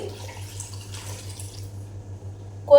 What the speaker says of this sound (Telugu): ఇప్పుడు ఇందులోకి వేడివేడి నీళ్ళు అయితే వేసేయండి